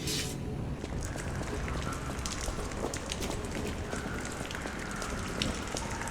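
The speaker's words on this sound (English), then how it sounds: "And it's raining? Is there a hole in the ceiling?" Steady rainfall pours inside a ruined train station in the video game Lies of P, a dense, even hiss of drops spattering on surfaces without pause, close and fairly loud.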